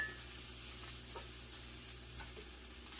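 Ground beef sautéing with chayote in a pan, a steady soft sizzle and frying hiss with faint stirring, heard alone without speech.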